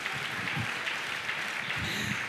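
A church congregation applauding during a Sunday worship service sermon, dense continuous clapping from many people filling the room at a moderate, steady level.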